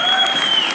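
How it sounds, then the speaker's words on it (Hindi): Loud, dense applause from the audience at a press meet for the Ramayana film, a brief burst of steady clapping filling the room. "एक बार जोरदार तालियां हो जाए।"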